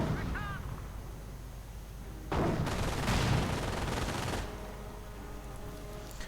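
Rifle fire between infantry squads, riflemen against grenadiers in a WWII real-time strategy game: a dense burst of overlapping gunshots in the middle, fading back to a quieter battlefield background before and after.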